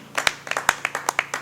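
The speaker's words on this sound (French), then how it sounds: "Est-ce qu'on peut encore applaudir?" Handful of people clapping at a Christian music gathering, about a dozen sharp, uneven hand claps in quick succession, close and fairly loud with no talk.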